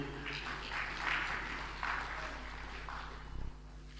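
An audience at an official government ceremony claps steadily, a dense, moderately quiet patter of many hands swelling slightly in waves for a few seconds.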